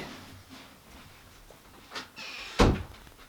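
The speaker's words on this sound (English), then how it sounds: "I'm going to go shut this door real quick." A room door is pushed shut, giving a single solid thud with a brief rattle near the end, preceded by a couple of quieter shuffling movements nearby.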